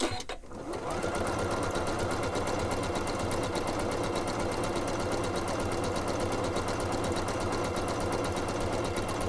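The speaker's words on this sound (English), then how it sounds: "So right now it's doing a blanket stitch all the way around the edge of my white circle." A sewing machine runs a blanket stitch around the edge of a white fabric circle for a quilt, a steady, close, fast mechanical whir with rhythmic needle chatter after a brief start.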